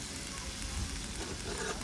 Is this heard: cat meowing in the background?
no